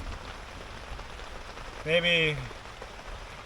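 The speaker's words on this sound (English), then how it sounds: "A little bit of rain." Light rain at a thunderstorm campsite, a steady close patter on a surface throughout, with a brief spoken word partway through.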